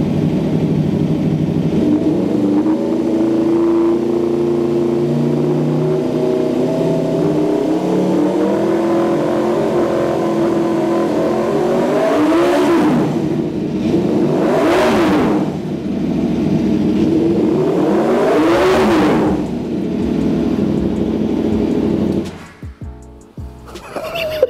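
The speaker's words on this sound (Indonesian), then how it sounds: "Kalau misalnya V4 tuh udah pasti ciri khasnya tuh kayak gitu suaranya." An Aprilia RSV4 superbike's V4 engine idles loudly up close, then is revved hard three times in quick succession, each rising wail falling back to a rough idle before the engine cuts out.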